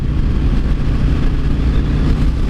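A Honda Shadow 750cc motorcycle engine rumbles loudly and close, a dense low throbbing drone that stays steady for the whole short stretch with no talking.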